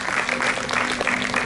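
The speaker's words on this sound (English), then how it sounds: "I think she deserves a big round of applause for the effort." Audience at a blood donation camp gives a short burst of steady, moderately loud clapping that fills the space without a break.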